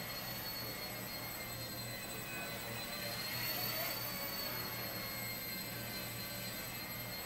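A Blade 70S micro RC helicopter, flying on an upgraded Lectron Pro 3.7V 45C 175 mAh battery, gives a steady, continuous high-pitched motor and rotor whine at an even level for the whole stretch, with no talking.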